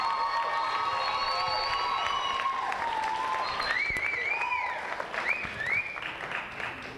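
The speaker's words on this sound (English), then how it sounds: "Let's give a huge round of applause for Marky's amazing piano performance." Audience applause after a piano performance at a 2010 gathering: loud, steady clapping mixed with cheers and high whoops, then easing off near the end, with a few voices calling out.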